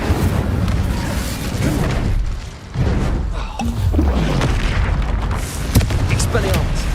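An Incendio fire spell in the Hogwarts Legacy video game unleashes repeated booming, roaring bursts over about seven seconds, with a dense rumbling bed, a brief dip midway, and a voice speaking at points underneath.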